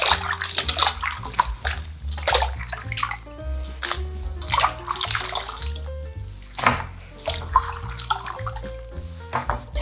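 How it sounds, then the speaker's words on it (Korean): Salted cabbage being rinsed by hand in a basin of water for summer water kimchi: continuous splashing and sloshing with irregular surges, close and fairly loud, with no voices. "소금을 좀 헹궈줘야지 여름김치는 맑은 맛이 납니다. 2번 정도만 헹궈주세요."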